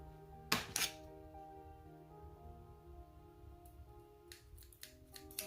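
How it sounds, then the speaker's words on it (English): Scissors snip through fabric while a romper is cut out for sewing, a crisp cluster of cuts near the start followed by a few lighter, scattered snips later, close and fairly quiet with steady room tone between. "Hopefully these scissors are still sharp to do this."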